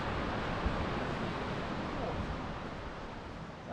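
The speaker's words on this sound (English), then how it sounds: "I'd love to live by the sea for the sound of the waves." Ocean waves washing onto the beach at Bribie Island, a soft, continuous surf wash heard from a distance, steady and fairly faint with no distinct breaks.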